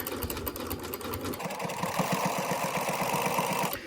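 A sewing machine runs a zigzag stitch along a cushion cover, with a steady rapid mechanical chatter that shifts to a faster, even rhythm midway, close and moderately loud, with no talking.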